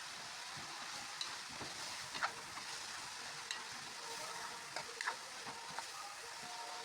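Bitter melon (ampalaya) being stirred in a pan while it cooks, with a steady soft frying sizzle and scattered light scraping clicks of the utensil, fairly quiet and without talk.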